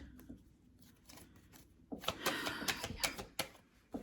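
Quiet at first, then a burst of rapid papery riffling and snapping, like a deck of tarot cards being shuffled close by, with no voices.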